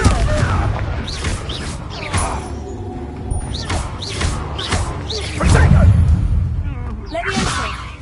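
Spell combat in the video game Hogwarts Legacy, including the explosive Confringo blast: repeated sharp whooshes and swishes punctuated by loud booming impacts and crashes, several in quick succession.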